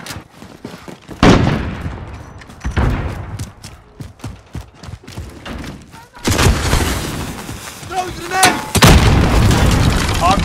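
Video game shootout with repeated gunfire bursts and heavy booming explosions, loud and close, building into a dense continuous barrage in the second half, with game voice callouts in between.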